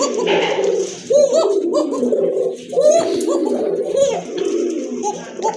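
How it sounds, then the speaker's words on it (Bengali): A pair of Koka pigeons coos in repeated rounds, with the male calling in low, throaty phrases close by while a person talks over the birds. "এটা কিন্তু সম্পূর্ণ রানিং একটা পেয়ার ডাকতেছে এটা নর"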